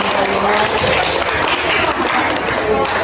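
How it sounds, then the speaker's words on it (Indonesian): A group at a teachers' coaching session breaks into a lively round of clapping that stays busy and fairly close. Voices mix in among the hands. "Mari kita beri tepuk tangan sekali lagi."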